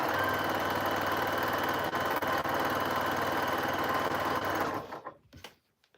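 A sewing machine stitches quilt pieces together in a fast, steady, close mechanical whir, then it slows and stops near the end and leaves quiet.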